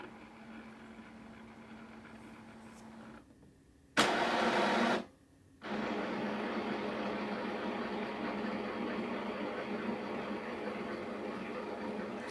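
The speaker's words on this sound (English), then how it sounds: "I'm waiting for the printer to be ready again." An inkjet printer resets after a cancelled print job: a steady mechanical hum, a brief pause, then a loud burst of whirring motor noise, and the hum resumes at a higher, even level.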